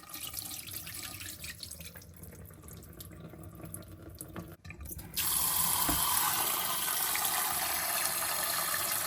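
Soaked lentils being washed under a running tap, steady rushing water that becomes louder and fuller halfway through as the flow increases, with no voices.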